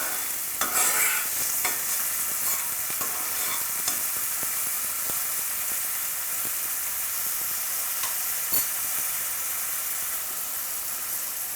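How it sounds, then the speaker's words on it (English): Garlic and other ingredients frying in a pan for vegan Mexican black beans, stirred with steady scraping strokes over a constant close sizzle, with a few sharper clicks early on. "The garlic. And stir everything around just a little bit."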